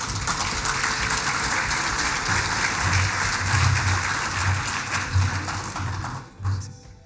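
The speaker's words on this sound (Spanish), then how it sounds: "Le damos, por favor, un muy fuerte aplauso." An audience at an agronomy talk on European hazelnut growing gives loud, steady applause, with some low knocks underneath, before it dies away near the end.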